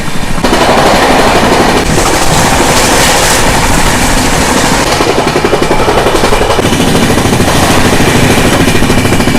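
A train rushes past another in a loud, steady roar of wheels and rattling carriages, with continuous rhythmic clatter from close by.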